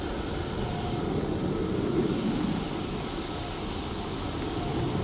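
A Ryanair airliner arriving from Valencia approaches to land at Manchester Airport in Storm Floris, a steady distant engine roar blended with heavy wind rumble throughout.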